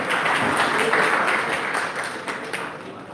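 Audience applause fills a school's annual prize distribution ceremony at Dar e Arqam School, West Wood Campus, a dense, steady wash of many hands clapping together that fades slightly toward the end.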